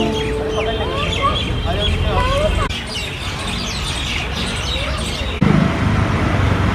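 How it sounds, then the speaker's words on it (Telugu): Birds call across an evening park in Delhi, with clucking and chirping calls layered over a constant hum of nearby road traffic and a brief louder thump near the end. "ఇటన్నీ బర్డ్స్ అరుపులు వినిపిస్తున్నాయి కదా"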